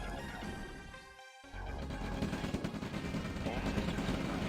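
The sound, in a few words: rifle gunfire from a video game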